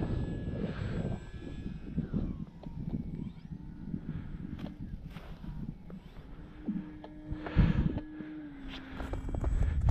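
Radio-controlled model airplane engine, a Bigfoot or Skytrainer, droning in flight outdoors, a buzzing tone that rises and falls as the plane passes, with scattered clatter nearby.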